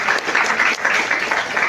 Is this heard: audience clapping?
yes